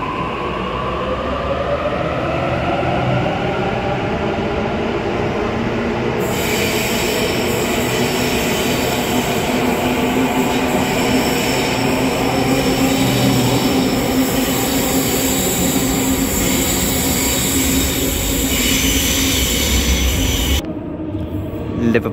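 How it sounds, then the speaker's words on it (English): A Sydney commuter train departs Wynyard station platform, rumbling loudly and steadily past in a broad continuous roar with faint rail squeal, a brief gap near the end as it moves on. "Sydenham service departing platform 6."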